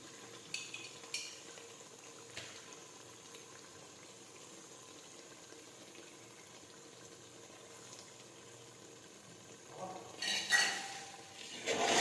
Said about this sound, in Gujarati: હવે આ રીતે ફરી પાછું મિક્સ કરી દઈશું